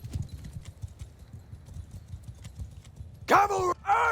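Cavalry horses gallop in the medieval battle game Mount & Blade II Bannerlord, a steady clip-clop of hooves running throughout, then a voice speaks loudly near the end.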